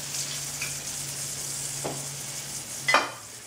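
Oil sizzles and spits steadily in a hot pan after brisket has been browned, a close, even frying hiss with a couple of sharper crackles near the end.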